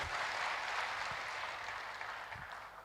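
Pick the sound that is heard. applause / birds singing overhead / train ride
applause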